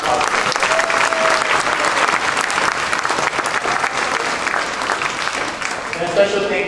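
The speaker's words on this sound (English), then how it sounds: "let's give him a round of applause" Audience seated on school gym bleachers gives a sustained round of applause, dense steady clapping from many hands lasting several seconds, with some voices mixed in.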